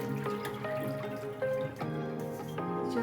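Sugar syrup from amla candy being drained off, a soft steady trickle and drip of liquid with faint clinks, fairly quiet and close, with no one talking.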